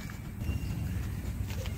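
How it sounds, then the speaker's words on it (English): Hooves of a pony giving rides at a farm clip-clop at a steady walking pace, soft and somewhat distant over low background rumble. "Pony rides."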